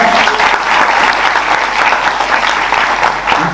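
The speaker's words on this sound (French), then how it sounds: "Est-ce qu'on peut les applaudir, les mamans?" A church congregation applauds the mothers in a steady, dense burst of clapping that fills the room, loud and close, with no clear speech over it.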